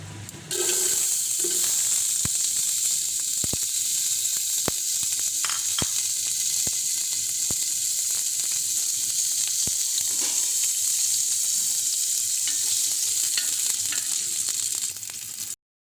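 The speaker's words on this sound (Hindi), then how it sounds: "प्याज लाल करने लगी हूँ।" Onions sizzling steadily in hot oil in a pan for mutton biryani, a continuous bright frying hiss that holds evenly for about fifteen seconds with a few faint clicks and stirs, no talking.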